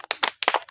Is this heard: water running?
no